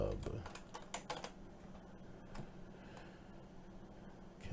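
Computer keyboard typing while code is being written, a run of quick clicks in the first second and a half, then sparser keystrokes over low background hum.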